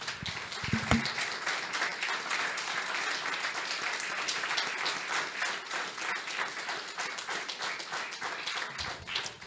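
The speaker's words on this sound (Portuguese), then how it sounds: "Vamos aplaudir Jesus." A church congregation applauds during a sermon, dense steady clapping that fills the room for several seconds, with a brief voice or shout near the start.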